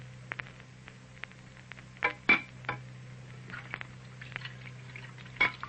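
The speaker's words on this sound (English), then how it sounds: "out in the kitchen, Fay and Joseph are doing the dishes" Dishes being washed in a home kitchen as a radio drama sound effect: soft scattered clinks and clatters of crockery over a steady low hum, fairly quiet, with no talking.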